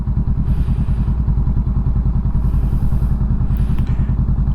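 A motorcycle engine fires and settles into a steady, loud idle right after the ignition is switched on, with a constant low throbbing rumble and some light clatter throughout.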